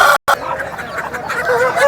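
A peacock-coloured rooster about one and a half years old and over three kilograms crows loud and near at the Nallapadu rooster market, one long continuous call broken by a brief gap right at the start.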